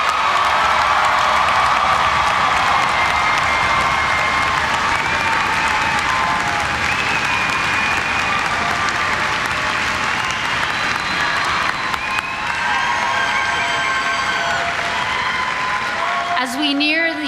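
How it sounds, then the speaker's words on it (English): Graduates at a university spring commencement ceremony receive a sustained round of applause and cheering from a large crowd, with scattered whoops and voices carrying through the steady clapping across the whole stretch. "let's give KSU's most recent graduates one more round of applause"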